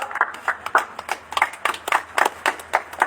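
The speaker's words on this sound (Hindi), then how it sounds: "साथ में तालियां" At an election rally in Kalana, a crowd claps in loose, rhythmic bursts. The hand claps are distinct and fairly close, with no talking heard.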